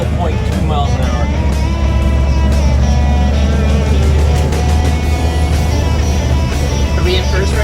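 A 1955 GMC truck crawls along in low gear, its engine a steady low rumble throughout, with occasional rattles and faint voices over the drone.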